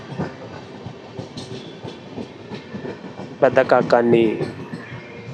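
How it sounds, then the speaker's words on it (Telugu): The Golconda Express passenger train, 17201 Guntur to Secunderabad, pulls away from Pedda Kakani station with rumbling wheels and clattering cars, growing louder and busier near the end, while someone talks over it. "మన పెద్ద కాకాని నుంచి మన ట్రైన్ అయితే స్టార్ట్ అయిపోయింది"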